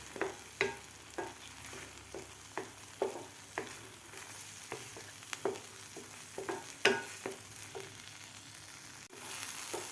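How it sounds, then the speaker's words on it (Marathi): Spiced masala for a paneer curry sautéing in a pan over a gas flame, a low steady sizzle broken by regular scraping strokes of a spoon through the mixture, close and moderately loud with no talk. "आता व्यवस्थित आपल्याला हा मसाला परतून घ्यायचा आहे दोन ते तीन मिनिट"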